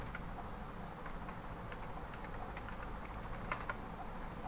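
Fingers tap on a computer keyboard in a quiet room, producing a soft irregular run of clicks with a faint steady hum underneath and no voices.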